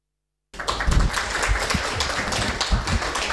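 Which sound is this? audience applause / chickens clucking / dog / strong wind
audience applause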